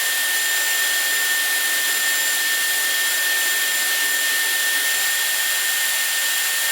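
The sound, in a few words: Dyson Airwrap hair styler blowing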